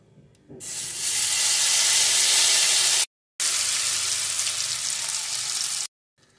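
Loud, steady sizzling of spice paste frying in hot oil, with a brief silent gap midway before the bubbling hiss resumes; no voices.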